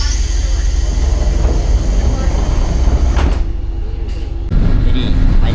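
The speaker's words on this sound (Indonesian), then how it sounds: "Jadi naik kereta, kalau kereta kecil kayak gini tuh gimana ya, goncangannya kerasa banget kayak ini." Interior of a small train in Japan while riding, a loud steady rumble and rattle with low shaking noise throughout, a brief door-like clunk partway, then the rumble continuing heavier.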